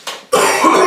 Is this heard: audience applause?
no